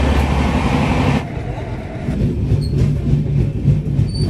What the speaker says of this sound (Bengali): বেশিক্ষণ দাঁড়ালো না আমাদের ট্রেনটা